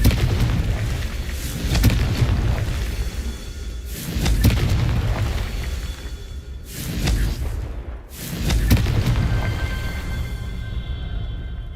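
Confringo fire-curse explosions from Hogwarts Legacy, several heavy booming blasts with whooshing bursts at intervals over a dense rumbling background of gameplay effects.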